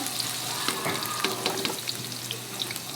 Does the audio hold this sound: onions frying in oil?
yes